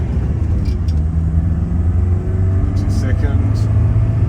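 A 44 kW Mercedes car pulling away and accelerating hard on the road, its engine a steady low rumble that builds slightly. Someone talks over it throughout.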